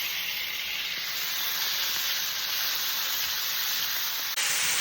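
Garlic sizzles in a pan for bacon tomato jam, a steady loud hiss of frying that holds evenly throughout, close up and without talking.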